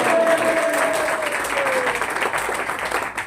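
An audience claps continuously, a dense wash of hand applause that holds steady and thins slightly toward the end, with a thin tone and a little voice mixed in.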